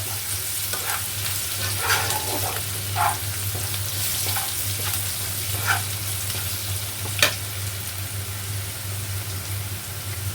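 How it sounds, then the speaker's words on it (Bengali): Crushed garlic frying with dried chillies in a hot pan, a continuous sizzle with occasional sharp stirring scrapes and pops nearby, no voices. "রসুনটা একটু ভাজা ভাজা হবে।"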